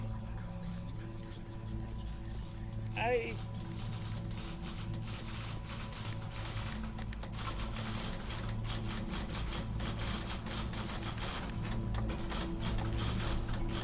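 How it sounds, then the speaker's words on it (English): Typewriters clatter in the video game The Beginner's Guide, a loose run of mechanical key clicks over a steady humming, music-like background, with no clear pauses across the stretch. "typewriters! I love typewriters."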